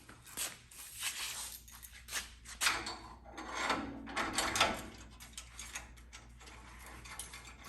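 Ratchet tightening bolts on a trimmer kit for a tool rack, a close, dry run of rapid clicking in uneven bursts with brief pauses, fairly quiet and without voices.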